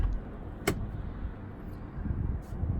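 One sharp click of a Toyota Sequoia or Tundra door latch releasing cuts through a steady low outdoor rumble.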